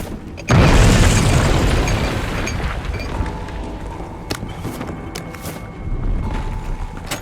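A bomb explodes in the video game We Happy Few, a sudden loud booming blast that rumbles and slowly decays over several seconds, with faint clanks and rattles in the tail.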